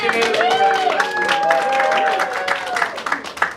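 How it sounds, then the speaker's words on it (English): Scattered applause and crowd noise from a stand-up comedy audience, sustained under a voice talking over it throughout. "Can I get a round of applause, my friend here?"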